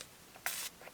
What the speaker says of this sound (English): Yeah, so we'll give it a little spray here.